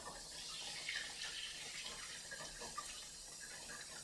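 Chicken stock poured by hand from a container into a stainless steel bowl, a steady close splashing pour of liquid that runs throughout without pause.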